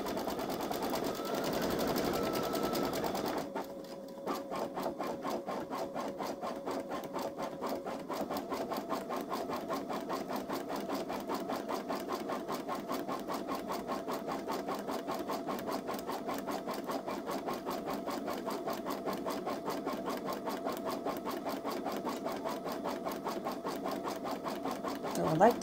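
A Baby Lock Solaris Vision embroidery machine stitches a design with a steady, rapid mechanical whir and fine repetitive needle ticking, running continuously at moderate loudness close by.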